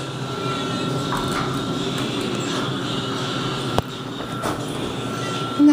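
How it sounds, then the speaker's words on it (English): A basic Dover hydraulic elevator in motion, giving a steady low mechanical hum and rumble throughout, with a brief sharp clunk partway through and a louder bump at the very end; no one speaks. "It's a basic Dover elevator"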